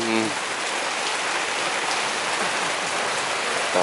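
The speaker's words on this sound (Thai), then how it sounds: "ในวันที่ฝนตกพรำๆนะครับ" Light rain drizzles steadily in Luang Prabang, a dense, even patter of drops on surfaces that holds close and constant throughout, with a faint voice briefly at the very start and end.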